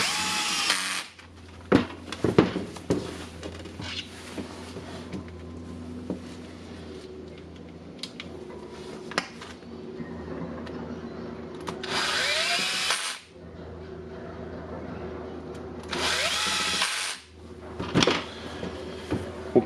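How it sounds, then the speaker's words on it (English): A power tool drives screws to close the handle of a Bosch GBH 2-24 DFR hammer drill during servicing, several short whirring bursts separated by quiet pauses and small clicks of handling, close and clear. "Now I can put the screws in."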